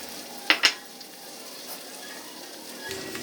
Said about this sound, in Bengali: পেঁয়াজটাকে আমরা হালকা ব্রাউন কালার আসা অবধি ভাজবো।